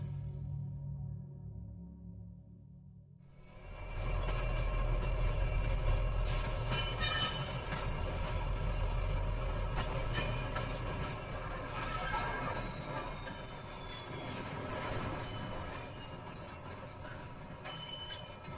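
A train running on the rails, a steady low rumble that swells after a quiet start, with rattling carriages and faint squeals, continuous and moderately loud, no talk.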